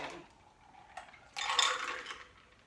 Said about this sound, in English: We can just roll it a couple of times just to make sure all the ingredients mix together.